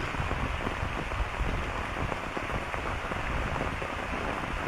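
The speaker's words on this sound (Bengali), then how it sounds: "এই বিলে বৃষ্টির সিনারি আপনারা দেখতে পাচ্ছেন" Steady rain falls over Chaliya beel, a wetland in the countryside, a dense unbroken hiss of drops pattering on water and surfaces, loud and even throughout with no voices.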